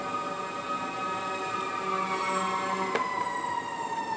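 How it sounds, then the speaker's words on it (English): Emergency vehicle sirens wail steadily in the distance, the tone sliding and holding over a constant background, with no talk. "here's the sirens"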